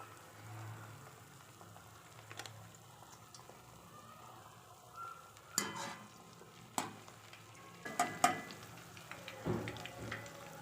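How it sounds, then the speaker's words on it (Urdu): An egg fries in a pan with a soft, continuous sizzle, broken by louder scrapes and clatters from stirring or moving the pan close by. "انڈے کو ہم نے اچھی طرح فرائی کرنا ہے"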